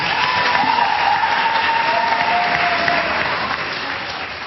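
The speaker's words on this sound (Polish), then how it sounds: "Was proszę o gorące brawa" Warm audience applause after a singing performance on a talent show, loud and dense at first, then tapering off gradually toward the end.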